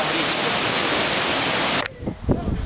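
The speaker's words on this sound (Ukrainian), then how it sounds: "Вітер" Strong wind rushes in a broad, steady roar on a mountain hiking trail near a river valley, then cuts off abruptly, leaving faint sounds and a brief voice.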